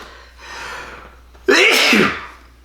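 A single loud, sharp sneeze up close, preceded by a brief intake of breath, with no talking.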